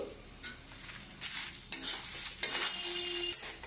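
Dried curry leaves and cumin seeds fry in hot oil in a pan, giving a close, crackling sizzle, with occasional scrapes and clinks of a spoon stirring.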